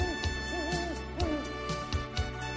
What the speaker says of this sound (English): an owl.